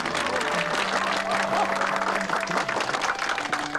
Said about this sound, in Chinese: 咱们鼓掌表示欢迎啊！